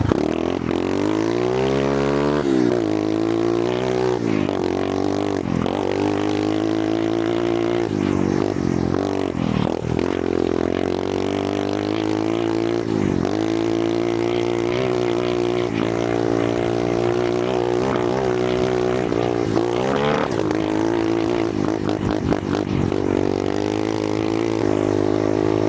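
An Amazon pit bike engine is held against an adjustable rev limiter set to 9,000 RPM, giving a sustained high, buzzing drone with repeated brief dips and stutters as the limiter cuts in.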